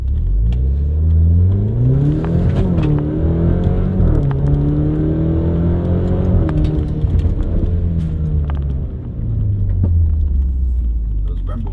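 An Alfa Romeo Stelvio fitted with a hybrid turbo upgrade accelerates hard from inside the cabin. The engine drones loudly and rises through the gears, with clear shift dips along the way.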